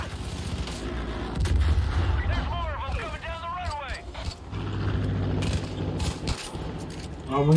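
Gunfire and explosive blasts in the shooter game Far Cry 5 thump and crack at close range in bursts, mixed with mechanical clatter, while someone talks over the action.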